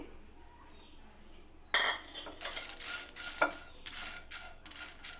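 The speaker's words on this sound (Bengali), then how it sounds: "আমি হালকা হাতে ভেজে নেব" Whole spices and dried chillies fried in a pan, with a light background sizzle under sharp, close clinks and scrapes as a spoon stirs against the metal pan, starting abruptly after a quiet moment.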